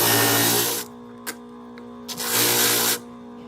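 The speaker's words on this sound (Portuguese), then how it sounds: "o ideal é você utilizar uma lixa de desbaste" Coarse sandpaper rasping against wood in two steady back-and-forth bursts with a pause between, with a couple of faint knocks in the gap, moderately loud and close.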